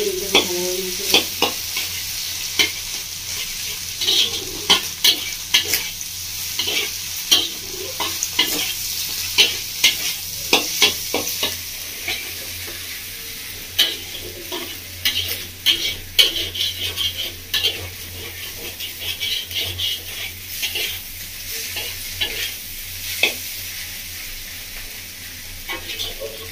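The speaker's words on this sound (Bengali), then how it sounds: "সবজি থেকে ডিমটা ভালোভাবে মিশিয়ে দিচ্ছি।" Vegetables and egg being stir-fried together for mushroom chow mein, a continuous sizzle broken by rapid, repeated clacks and scrapes of a utensil against the pan, close and busy throughout.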